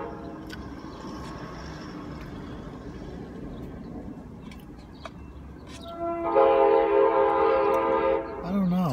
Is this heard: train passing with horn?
yes